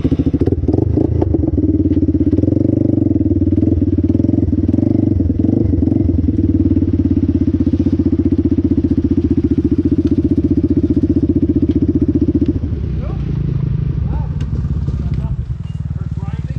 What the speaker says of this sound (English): Yeah, the motor runs. Motor runs.